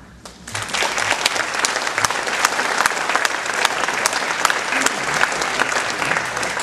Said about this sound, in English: I really want to applaud them for taking the time